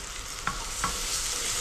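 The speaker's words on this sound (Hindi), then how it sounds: "2 टेबल स्पून डालूंगी मैं टमाटर प्यूरी, और इसको हम अच्छे से मसालों को इसके साथ हम भून लेंगे।" Tomato purée frying with spices in a pan for a turnip and spinach curry, a steady loud sizzle with two soft stirring scrapes, close and continuous.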